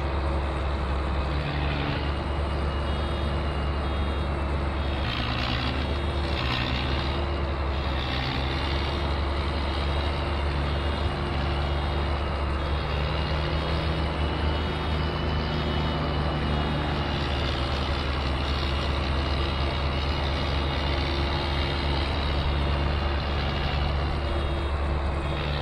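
A tractor engine in Farming Simulator holds a low, steady rumble for a long stretch. Its droning tone rises and falls a little, with a faint mechanical whine on top and no talk.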